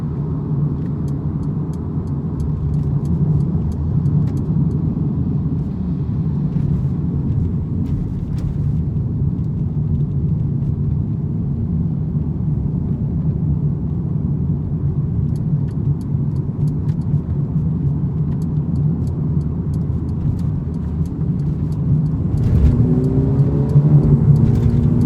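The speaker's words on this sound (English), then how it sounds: "Feathering the throttle. I'm not even slamming it. That's how responsive this AMG tuned engine is." A Mercedes A35 AMG 4MATIC on a test drive, its AMG-tuned engine droning steadily inside the cabin with light throttle blips and a slightly louder swell near the end, no talk over it.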